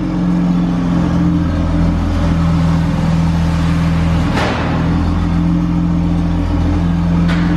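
A Chevrolet Omega with cut, lowered springs drives up over a ramp, producing a steady, loud engine rumble and droning road noise inside the car, with a brief thump midway.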